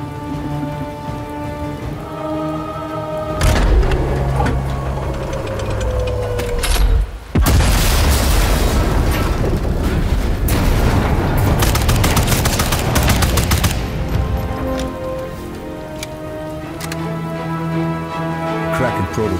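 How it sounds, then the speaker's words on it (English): A sabotaged artillery gun in Sniper Elite 5 blows apart as it fires: a loud boom, then a long, heavy roar of blast and rumble over an ongoing background score, with no talking. "The gun will blow when it's fired."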